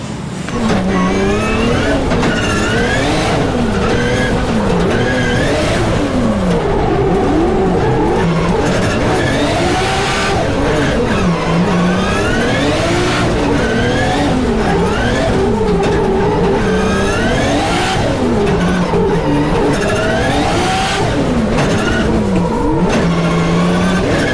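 A 1000hp Toyota Supra drift car tears around a drift event, its engine screaming and repeatedly revving up and down in rising and falling sweeps, with tire squeal mixed in, loud and continuous throughout.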